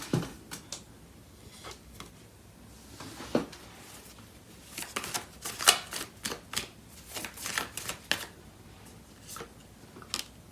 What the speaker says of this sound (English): So I'm gonna clarify by taking out cards from the other deck.